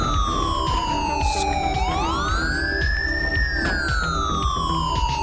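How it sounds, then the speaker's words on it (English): A police car siren in GTA V wails continuously, sweeping down then rising and falling in pitch, steady and loud with a low rumble underneath. "Trying to turn my siren off real quick."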